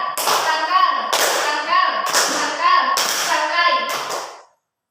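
Children in a sixth-grade classroom clap together in bursts for the Tepuk tangkai clapping game, about five sharp, loud group claps spaced roughly a second apart, with young voices calling out alongside, then silence at the end.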